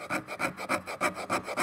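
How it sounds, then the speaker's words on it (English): The 90-degree edge of a fire striker carving shavings from wood, about eight quick rhythmic scraping strokes, close and fairly quiet, with no voices. "So you can just get on here and carve out some wood."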